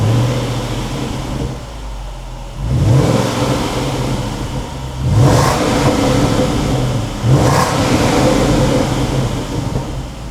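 A 500bhp Jaguar XFR on its stock exhaust before a straight pipe is fitted, revved in a workshop: a loud, continuous idle rumble broken by three sharp throttle blips that rise and fall back.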